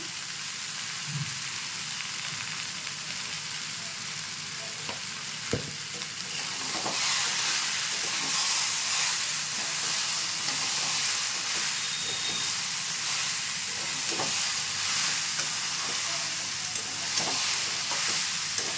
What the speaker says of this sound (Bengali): মশলাটা দিয়ে ভালো করে আমি কষিয়ে নিয়েছি।